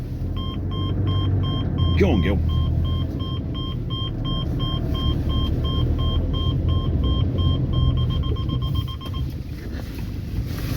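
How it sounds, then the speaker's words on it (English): A vehicle grinds its way off a wet shingle beach with a steady low engine rumble and crunching undertone, wind buffeting the microphone and a repeating electronic warning beep, while a person briefly speaks. "Once it gets wet, it's like driving on bloody pebbles."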